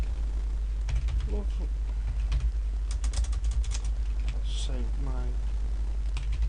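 Someone types on a computer keyboard, with a steady run of close, light key clicks under a person talking.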